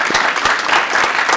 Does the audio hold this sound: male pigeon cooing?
no